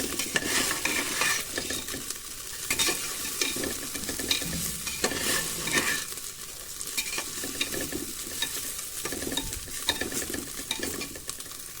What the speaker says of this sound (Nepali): यसरी चामललाई पहिले हामीले भुटेर बनाउनाले चाहिँ हाम्रो खिर एकदमै मिठो स्वादिलो